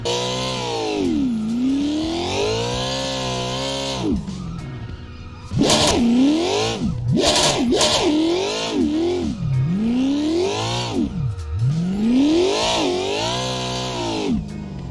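A simulated car engine in the racing game Assetto Corsa revs hard during a drift, rising and falling in pitch with rapid throttle blips and sustained high-rpm wails, loud and continuous with faint tire noise.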